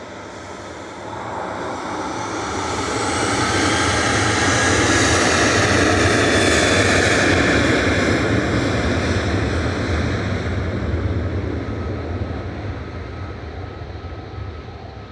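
TUI Boeing 737-800 jet departing Manchester for Girona, its engine roar swelling loud and near over several seconds, then slowly fading as it climbs away, with no talking.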